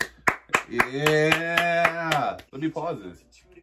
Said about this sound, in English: Everybody, start clap your hands.